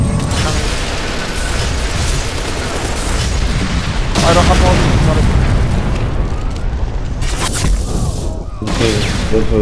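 Grenade blast in the shooter game Ghost Recon Phantoms: loud, continuous booming rumble with a burst of crackling gunfire, dense and sustained throughout with a fresh surge midway.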